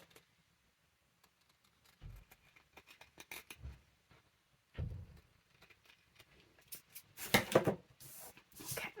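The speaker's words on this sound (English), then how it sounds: "So let me just cut the bottom here. Careful not to cut my pocket." Scissors snip through paper while trimming the bottom edge of a junk journal pocket, with a few soft crunchy cuts spread out and a louder cluster of close, crisp snips near the end, amid quiet handling noise and no talk.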